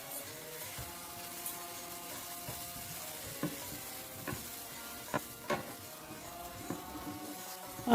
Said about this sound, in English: I'm going to mix it well and cook it for around 2 minutes